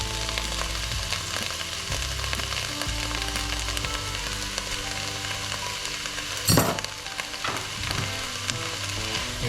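Spices and tomato puree being stirred into softened onions frying in a pan for chilli con carne, giving a steady close sizzle with scraping spoon strokes and one sharp clatter midway.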